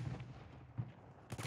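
Gunfire in a multiplayer shooter sounds as a few distant, muffled shots spread across a short moment, the last one sharper and brighter, at a low overall level.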